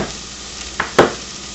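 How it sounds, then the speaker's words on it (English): Onions frying in a pan with tongs stirring them, a low steady sizzle with two short scraping stirs in quick succession near the end. "take a look at my onions. Yeah, just going to stir those around"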